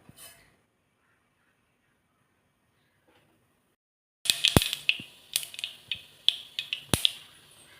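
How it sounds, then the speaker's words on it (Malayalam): Mustard seeds crackle in hot oil, already used for frying ginger, while an Onam sadya inji curry is cooked. A near-silent start gives way to sharp, irregular pops and snaps, fairly close. "എണ്ണ ചൂടായിട്ടുണ്ട് കടുകിടാം"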